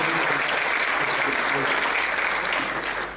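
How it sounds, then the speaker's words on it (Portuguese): A church congregation claps and applauds steadily, dense and even throughout, fading slightly at the very end. "Vamos aplaudir a Deus a vida do nosso querido pastor Mário"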